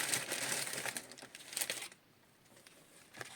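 Close, crackly crinkling of a plastic packet being handled, busy and rustling for about two seconds, then fading to near quiet with a brief rustle at the end.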